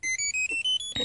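A car alarm chirps on remote start of a manual stick-shift car, a quick run of about six short electronic beeps, close and clear, followed by a brief thump.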